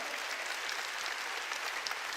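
Steady congregational applause fills a church during a Korean sermon, a dense even patter of many hands clapping without a break, fairly loud and close, with no voices over it.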